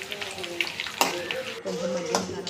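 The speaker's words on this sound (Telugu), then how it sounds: "ఒక బౌల్లో ఆయిల్ అయితే వేసుకొని అది హీట్ అయినాక దినుసులు అయితే వేసుకోవాలి. అన్నీ వేసుకున్నాక కొద్దిగా ఫ్రై అవ్వనివ్వాలి" Whole spices crackle and fry in hot oil in a bowl, a steady close sizzle with a few sharper pops and scrapes of stirring.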